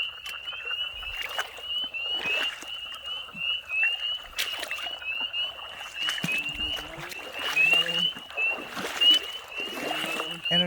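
Leopard frogs in a pond full of egg masses, a dense chorus of croaks and trills running steadily throughout, with splashes and rustling of someone moving nearby.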